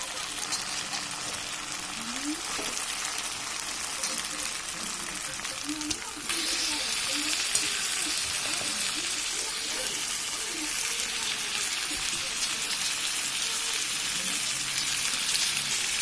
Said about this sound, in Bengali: মশলা থেকে তেল ছাড়তে শুরু করেছে, তাই আমি দিয়ে দেবো এর মধ্যে মাংস